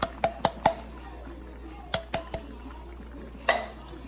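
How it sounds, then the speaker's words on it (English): Canned mixed vegetables stirred into a pot of beef stew, heard as a few sharp spoon clanks against the pot in short clusters with quiet gaps between. "You just stir it in there."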